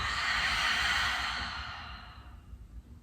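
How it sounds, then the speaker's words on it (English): Ujjayi breath during a yoga practice: a single long, audible exhale with a soft throaty hiss that is loud at first and fades away over about two seconds, with no talking. "Take another deep breath in. Ujjayi out."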